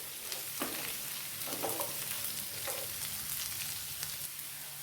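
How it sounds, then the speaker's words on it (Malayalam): Bitter gourd sautés in oil with garlic and curry leaves, a steady close sizzle and crackle broken by several scraping stirs of a spoon in the pan, with no one talking. "വഴറ്റി കൊടുക്കാം."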